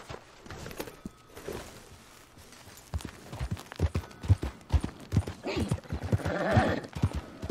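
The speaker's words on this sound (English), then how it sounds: "I'm getting on my horse and we're getting the heck out of here." A horse in Red Dead Redemption 2, with hoof clip-clops and a whinny that build from a quieter opening into a busier, louder stretch of hooves and snorting.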